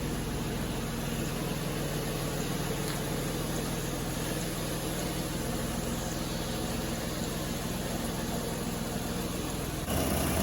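A Jeep Commander engine idles with a steady, even rumble and hiss, running continuously without changing pace.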